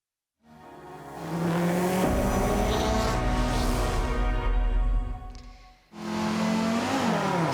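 Audi rally cars on the forest rally stage at the Goodwood Festival of Speed: engines rev hard and pass close and loud with a brief tire squeal, then fade before another car roars in.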